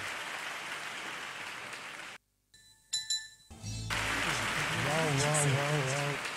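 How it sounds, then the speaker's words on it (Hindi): Audience applause at a musical event in Thane, Maharashtra, following a Hindi film song; a loud burst of clapping fills the clip after a brief gap of near silence, with a host speaking over it. "जोरदार तालियां महेंद्र सर और"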